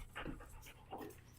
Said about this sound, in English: That's my boxer Kobe